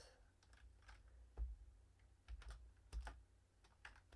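Keystrokes on an American-layout computer keyboard, quiet and close, come in short irregular bursts of clicks with a few louder thumps between them, and nobody speaks.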